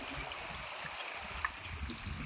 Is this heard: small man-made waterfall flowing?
yes